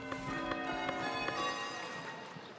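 A set of five bells ringing different notes in the game Foundation, struck one after another in an irregular sequence with overlapping, ringing tones that slowly fade.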